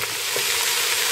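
Ground meat fries in oil in a pan for a bean and meat stew, giving a steady, close, crackling sizzle with a brief scrape of stirring.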